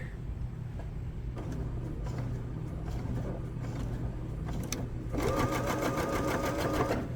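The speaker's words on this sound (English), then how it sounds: "You're just gonna stitch to the edge of the pocket here." Home sewing machine stitching the pocket edge of pajama pants, a steady close mechanical hum with a faster, louder buzzing run of stitches near the end, no talking.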